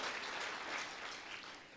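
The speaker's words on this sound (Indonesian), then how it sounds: "Berikan tepuk tangan." Applause from a congregation at a church prayer and fasting service, a steady, dense clapping that carries evenly through a short burst and fades slightly at the end, with no voices over it.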